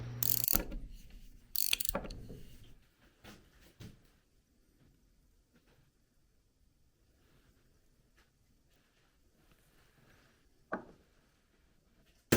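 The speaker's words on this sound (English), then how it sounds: "using a box wrench, remove the packing nut that's installed around the plunger shaft" A box wrench works loose the packing nut around the plunger shaft of a water hydrant, giving a few sharp metallic clicks and scrapes near the start and one more later, separated by long quiet gaps.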